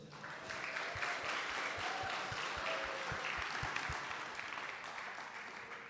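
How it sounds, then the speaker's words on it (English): Applause from a crowd at a panel discussion honoring a judge, steady dense clapping filling the whole stretch at moderate distance, with no talk over it. "could we have a round of applause for Judge Kathleen Williams?"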